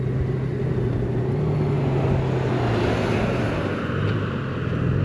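A motorcycle rides along a road through vineyards near a river bend, its engine a steady, loud drone mixed with rushing wind noise and no break throughout.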